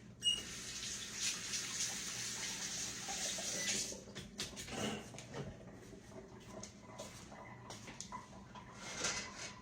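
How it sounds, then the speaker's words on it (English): Tap water runs into a sink as hands are washed, a faint hiss and splash with some clatter, the flow easing after a few seconds. "Let me wash my hands now"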